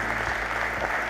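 An audience at a governor's education summit in North Dakota applauds as Governor Doug Burgum is welcomed, a dense continuous wash of clapping with a faint low hum beneath.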